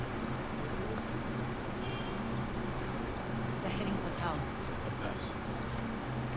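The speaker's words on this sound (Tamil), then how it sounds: "மற்ற குதிரை எவ்வளோ வேகமாக ஓடுது, இந்த குதிரை பாரு எவ்வளோ சொங்கியா ஓடுது" Horse hooves in the video game Ghost of Tsushima beat rapidly in a steady galloping clip-clop, running under constant wind-like noise with a few faint chirps.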